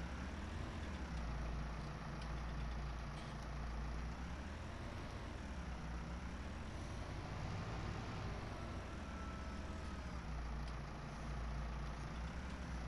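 A tractor engine idles in Farming Simulator 19 as a steady, low, rumbling drone that holds quietly and evenly throughout.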